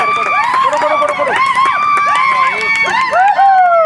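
Women spectators cheer and shout at a village cricket league final, with high voices whooping and calling in overlapping bursts close by, loud and continuous.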